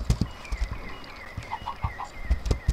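Chickens cluck in modded Minecraft survival, several short, close clucks scattered among sharp thumps and game noise, with no voice over them.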